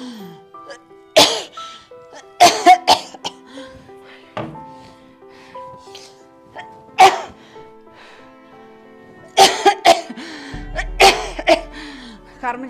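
Harsh, repeated coughing bursts in uneven clusters from a person in a fit, loud and close, with short pauses and some voiced strain between spasms.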